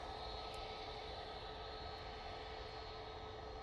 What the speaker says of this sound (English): You are a Dreamliner, I'm thinking.